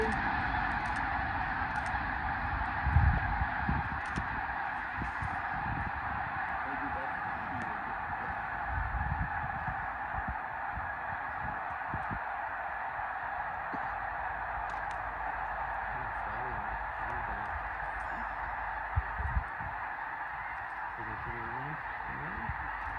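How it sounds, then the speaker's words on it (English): A huge flock of migrating snow geese over a reservoir in Millard County, Utah, giving a dense, continuous chorus of honking that carries on throughout, some calls standing out nearer and louder. "Around 10 o'clock each day, you can sit and watch the geese fly onto the Gunnison Bend Reservoir."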